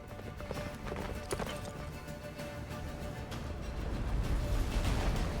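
Hooves of Roach, a horse in The Witcher 3, clip-clop in a quick galloping rhythm, moderately faint beneath game ambience and wind, growing slightly louder toward the end.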